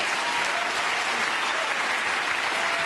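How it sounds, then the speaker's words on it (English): Applause from the audience at the 2009 Ernst & Young Entrepreneur of the Year awards show, a steady, loud wash of many hands clapping throughout without a break. "Big round of applause,"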